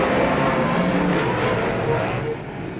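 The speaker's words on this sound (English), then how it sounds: "The revs come up in the starter's hands." Superstock race cars roar together as the revs build at the start of a night charity race, a loud, dense wall of engine noise that eases slightly at the very end.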